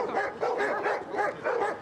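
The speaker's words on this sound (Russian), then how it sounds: "Смотрите, как завелись все собаки, они тоже хотят так научиться." Several dogs bark and yip in excited, repeated bursts at a working-dog demonstration of police detection dogs, a steady rhythm of overlapping barks close by with no talk over them.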